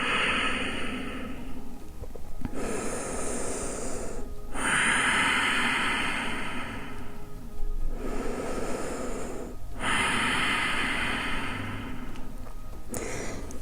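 Slow, steady breathing held in child's pose during a beginner mobility class, with long broadband inhale and exhale swells repeating about three times, close and fairly loud with brief pauses between breaths.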